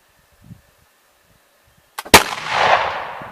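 A single loud Harpers Ferry rifle shot rings out close by, a sharp crack followed by a long, rumbling echo that decays over about a second, with faint handling noise beforehand.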